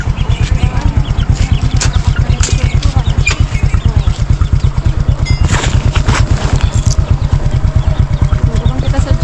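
A motorcycle engine idles steadily and loudly up close, its fast even pulsing running unbroken, with a few faint voices in the background.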